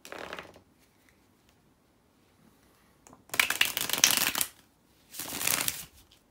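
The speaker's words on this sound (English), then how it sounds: "So let me shuffle." Tarot cards shuffled in several quick bursts: a brief riffle at first, then two longer, crisp shuffles close to the microphone.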